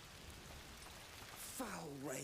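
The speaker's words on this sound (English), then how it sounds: "Foul rain." Rain falling in a video game: a soft, faint, steady patter of rain, with a voice speaking over it near the end.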